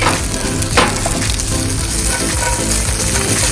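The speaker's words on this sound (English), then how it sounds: "Saute them from 5 to 8 minutes until they're brisket" Shishito peppers sautéing in olive oil in a pan, a loud, dense, continuous sizzle close up with a faint clink near the start.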